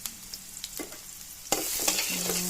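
Garlic, ginger and onion sauté in a pan for ginataang shrimp and crab and are stirred with scattered utensil clacks. A louder burst of sizzling takes over midway and keeps going. No one speaks.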